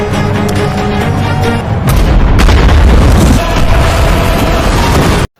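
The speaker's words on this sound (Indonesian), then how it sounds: "Mati meledakkan satu lubang got dan membuat lubang got yang terhubung dengan lubang yang diledakkan oleh Mati yang kebetulan ada di sebelah panggung juga ikut meledak" A methane-filled sewer hole explodes in a film scene with a heavy, booming blast about two seconds in, rolling and rumbling loudly for several seconds before cutting off abruptly.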